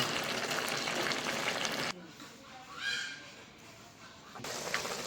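A vegetarian mixed-vegetable dish sizzles loudly in a pan, a bright crackling hiss that breaks off briefly in the middle and returns, with a voice speaking faintly during the pause.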